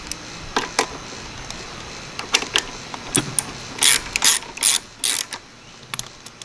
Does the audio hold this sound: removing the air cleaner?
yes